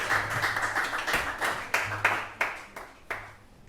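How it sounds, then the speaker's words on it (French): Audience clapping for a dance group at a stage show, a ragged burst of handclaps with several sharper claps standing out near the end. "Cher public, applaudissez-les s'il vous plaît."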